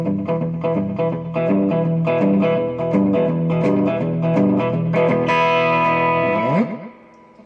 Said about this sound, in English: You do this, you can get like a rockabilly slap echo